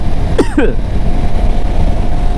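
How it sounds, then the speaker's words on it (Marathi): A man on a Sunday motorbike breakfast ride coughs twice in quick succession, sharp and close, over steady engine and wind rumble that continues after. "एवढा खोकला झालाय"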